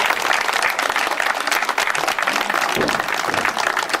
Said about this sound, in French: je vous demande d'applaudir ceux qui nous ont fait confiance